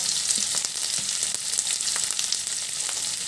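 Onion, capsicum and green chilli sauté in a hot pan, a steady bright sizzle with occasional crackles and stirring taps, heard alone without talk.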